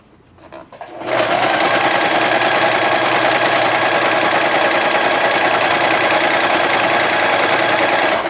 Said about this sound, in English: And I'll turn the corner just to finish off our stitch, and then reverse.